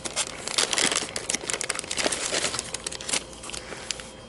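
Plastic packaging around board game pieces (small cubes and little houses) crinkling and tearing open up close, a run of sharp crackling rustles lasting a few seconds.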